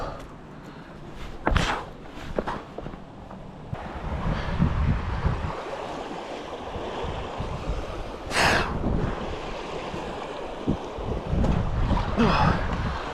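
A boat runs through rapids on the Suwannee River, with rushing water, engine drone and gusty wind buffeting the microphone throughout, and a few sharp splashes and knocks.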